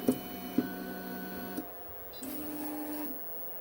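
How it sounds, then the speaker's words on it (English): A 3D printer works on a small washer, its stepper motors whining in steady tones that shift pitch with each move, punctuated by a few soft ticks, quiet and close with no talking. "For here I print something very small, just a simple washer."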